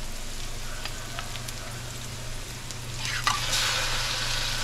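Pork sizzles in a pan while ginataan laing is cooked, a steady frying hiss with a few faint clinks and a louder surge of sizzling near the end.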